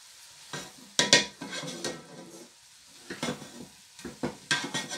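Spatula stirring prawn fried rice with vegetables in a hot pan, giving close, uneven scraping and tossing strokes in short bursts over a light sizzle.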